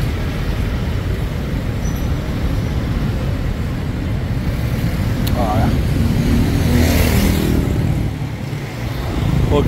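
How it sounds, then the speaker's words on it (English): Busy road traffic in Angeles City, Philippines, with jeepneys and cars passing close by, a steady engine rumble that swells as a vehicle goes past, while people talk over it. "Look at all the traffic, guys."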